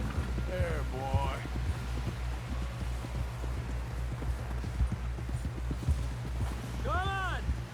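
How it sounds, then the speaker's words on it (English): Horse hooves clip-clopping at a steady trot in the Western game Red Dead Redemption 2, close and moderately loud, with brief voices and a whinny-like call breaking in near the start and end. "Someone help John down off this horse."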